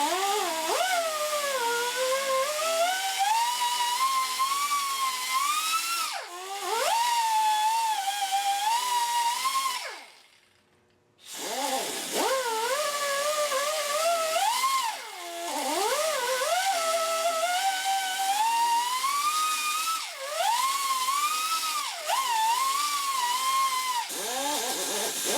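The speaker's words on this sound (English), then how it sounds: "Here's the die grinder." A die grinder whines at high speed while cutting into a Gibson guitar neck, its pitch rising and dipping as it bites into the wood, with one full stop and restart partway through.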